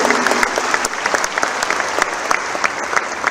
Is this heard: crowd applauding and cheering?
yes